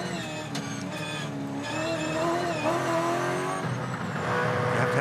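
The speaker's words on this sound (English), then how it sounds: "Cam Hill, evasive action, had to basically spin the car" A Supercars race car spins on the track at The Bend during an evasive move at a race start, engine noise sweeping and shifting in pitch with a tire squeal, loud and sustained throughout.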